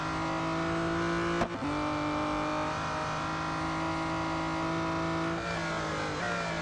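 Race car engines from the mobile game Real Racing 3 drone at a steady high pitch, with a brief dip as if shifting or braking near the start and slight pitch changes toward the end, continuous and without speech.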